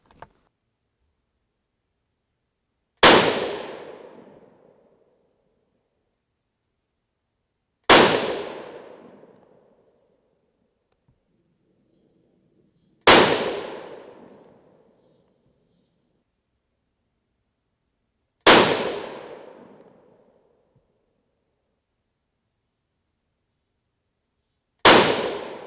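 Five loud, sharp rifle reports from a .223 Remington firing 40-grain V-Max loads over N133 powder, evenly spaced about five seconds apart, each with a decaying echo and near silence between.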